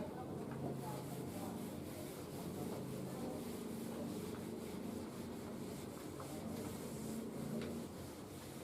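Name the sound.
rubbing out (erasing) the drawing on the board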